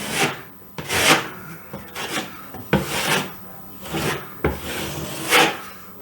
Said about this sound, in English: For this area under the plug, I'm just going to use my 6-inch blade and the same thing.